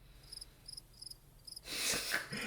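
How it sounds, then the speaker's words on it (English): Faint crickets chirp in short, regularly spaced bursts, then a louder breathy hiss rises and covers them. "They had the crickets."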